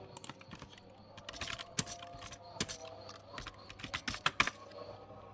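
Keys clack on a computer keyboard as a Linux sudo command is entered in a server lab, with irregular bursts of close taps and a few sharper strikes, no voices.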